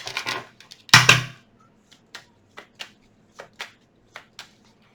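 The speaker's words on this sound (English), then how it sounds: "One more shuffle here." Tarot cards shuffled by hand: one loud riffle-and-bridge burst near the start, then a run of light, evenly spaced card taps and slaps, close and fairly quiet, with no talking.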